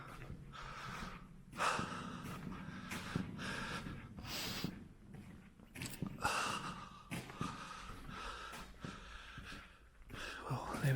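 Heavy, deep breathing from a worn-out person after exertion, gasps and snorting breaths repeating close to the mic, with movement and rustling in an abandoned Victorian railway tunnel.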